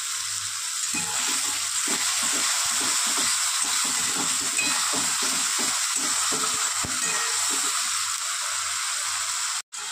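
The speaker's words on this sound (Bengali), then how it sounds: "মশলার পেস্টটা দিয়ে এবার কষিয়ে নেবো যতক্ষণ না তেল ছেড়ে আসে" Spice masala paste fries in oil in a pan for tarka dal, papaya version, while it is stirred until the oil separates. A steady close sizzle runs throughout, with soft rhythmic scraping of stirring beneath it and no talking.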